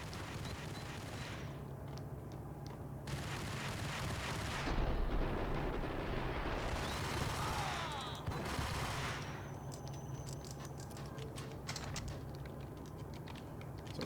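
Rapid bursts of gunfire in the video game Max Payne, dense crackling volleys and heavy shots layered over one another, sustained and loud, with fast keyboard clicks mixed in.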